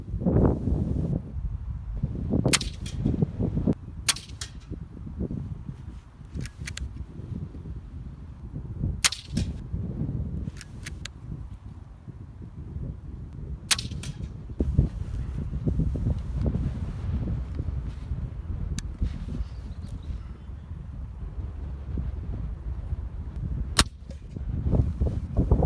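A Weihrauch HW100KT FAC air rifle fires at targets from a prone position outdoors, about nine sharp cracks spaced irregularly across a low wind-buffeted background, no talking.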